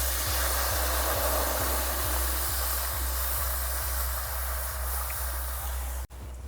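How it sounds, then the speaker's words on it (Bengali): A relit clay stove burns under a pot of heating water, giving a steady roaring hiss close by with regular soft low thumps. "উনুনটা আবার ধরিয়ে নিয়ে জল দিয়ে দিলাম"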